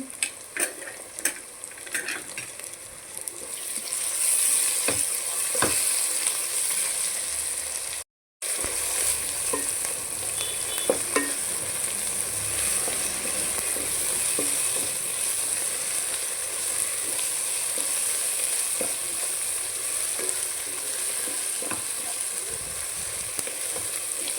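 Ginger paste and turmeric fry in a pan for a cucumber curry, giving a constant close sizzle with occasional spoon scrapes and clinks against the pan and one brief full dropout partway through, with no talking.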